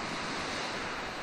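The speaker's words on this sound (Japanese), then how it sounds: "今日は風が強いですけど、これが白浜の海ですね。" Sea at Shirahama's white-sand Shirarahama beach under strong wind, whitecaps rolling in, heard as a steady, dense roar of surf blended with wind noise, with no distinct breaks or other sounds.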